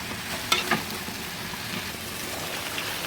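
Chicken and teasel gourd (kakrol) sauté in a pan, a soft, steady sizzle with a couple of brief scraping stirs near the start, close and fairly quiet, no voices.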